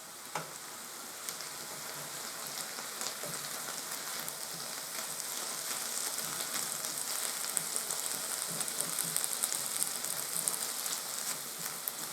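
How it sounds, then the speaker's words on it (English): Noodles stir-fried with vegetables in a pan over raised gas heat give a steady, loud sizzle with intermittent scraping and stirring clatter throughout, no voices. "you can stir fry them with the vegetables"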